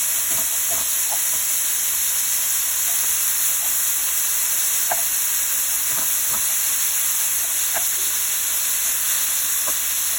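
Bacon sizzling in its own rendered fat in a pan, a steady loud hiss broken by scattered sharp pops and crackles throughout, with no talking.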